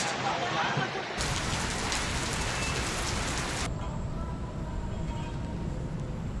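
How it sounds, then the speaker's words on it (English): Steady rain pouring outdoors in Indonesia, a dense hiss of drops on surfaces that swells heavier for a few seconds, then settles back to a constant patter. "Okay, where can we get out of this rain?"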